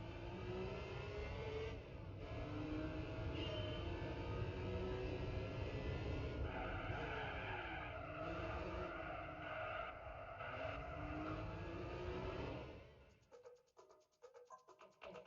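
A BMW engine in the Gran Turismo 4 racing game revs hard and loud through repeated gear changes for most of the run. It then cuts off abruptly near the end into quieter, choppy game sounds.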